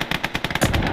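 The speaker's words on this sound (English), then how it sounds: "Mortars are still firing." Rapid automatic gunfire in the World War II game Gates of Hell: Ostfront, a quick run of sharp close shots over about a second with a heavier thump near the end.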